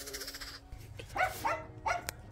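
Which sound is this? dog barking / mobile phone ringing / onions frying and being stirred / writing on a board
dog barking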